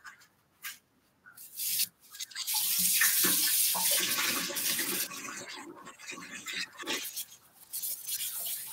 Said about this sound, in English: I am going to go wash my hands because they are all sticky and yucky from the garlic and onions.